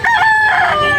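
A single loud, close rooster crow, the full call lasting about a second and standing alone with no talk over it.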